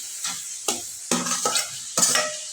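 Onions sizzle in a frying pan while being stirred, four or five close scraping strokes, each followed by a short burst of crackling sizzle.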